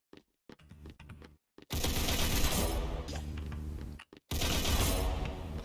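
Gunfire in the video game Valorant: a few quiet clicks, then loud, dense bursts of shots that fill the air, broken by brief silences.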